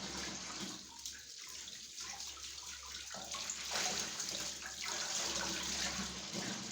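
Water from a tap splashes and gurgles steadily while things are washed by hand, close and continuous with shifting swishes and light clatter throughout.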